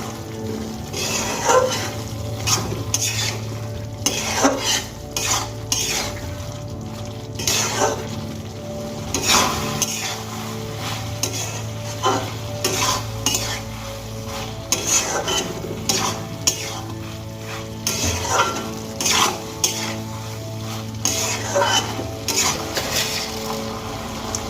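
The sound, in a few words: okra and spices being sautéed and stirred in a pan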